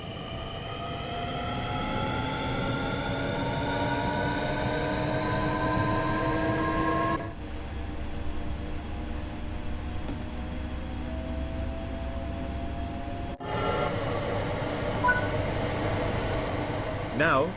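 Regional sprinter train on the Zwolle–Groningen line in Train Sim World 5 runs steadily with a continuous rolling hum and rising motor whine, the tone shifting as it drops into a quieter stretch, then returns near the end.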